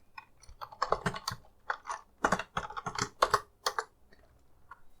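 Python code is typed on a computer keyboard in quick, irregular bursts of crisp key clicks, close up and fairly quiet, with short pauses between flurries and no talking.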